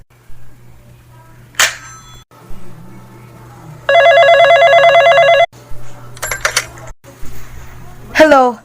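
Telephone line noises in an old radio play: a steady low hum, a loud sustained ringing burst in the middle, and sharp clicks and buzzes around it, with a brief voice near the end.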